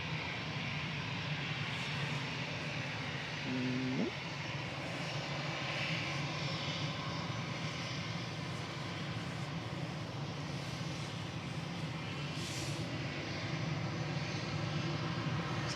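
An easyJet airliner departs for Amsterdam, heard as a quiet, distant, continuous engine rumble that stays level throughout with no voices over it.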